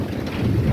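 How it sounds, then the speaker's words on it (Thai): Rain arriving with a thunderstorm, a brief burst of dense low rumbling and broad rushing noise with no voices. "ฝนหลังมาเลยพี่น้องดู"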